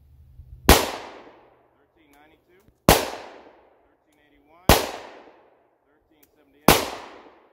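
Four loud, sharp pistol shots from a Glock 29 firing 10mm handloads ring out about two seconds apart, each with a crisp crack and a fading echo, and faint sounds fill the gaps between them.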